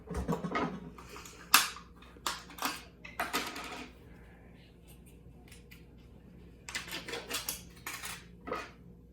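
A knife scrapes and clinks against a bagel and dish while spreading Philadelphia cream cheese at Benny's Bagels in Boston, giving a run of short, close scraping and tapping bursts separated by quieter pauses, with no talking.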